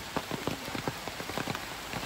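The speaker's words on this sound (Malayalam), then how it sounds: "അപ്പം ആ ചേച്ചി വരുന്നത് മഴ തന്നെ." Rain falling steadily outdoors at a rural home where bamboo is being cut, with scattered distinct drops pattering on a surface over a constant wash, moderately near and without talk.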